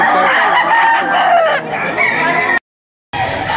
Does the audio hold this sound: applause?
no